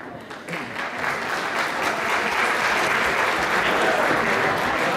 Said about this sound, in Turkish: Alkışlarınızla ben mikrofonu Sayın Erdoğan Bıçakçıoğlu'na veriyorum.